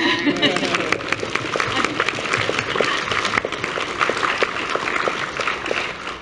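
Audience applause at a Doctor Who convention panel at MCM Expo London Comic Con, a steady round of clapping lasting several seconds, with talk over it.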